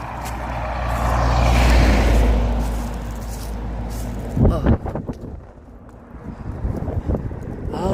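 Gusty wind buffets the microphone on an outdoor walk, a deep rumbling roar that swells and fades, with voices and passing traffic noise mixed in.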